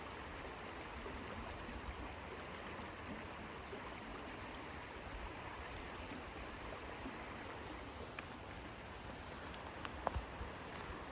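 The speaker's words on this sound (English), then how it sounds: "this babbling creek right here, like this is very relaxing" A babbling creek beside a campsite on the McKenzie River flows in a steady, continuous wash of water noise, with a few faint clicks near the end and no one talking.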